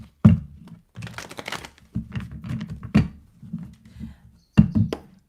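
Tarot cards shuffled and tapped by hand in a burst of crisp riffling clicks and soft thumps, several separate bursts over a few seconds, close and fairly loud with no talking.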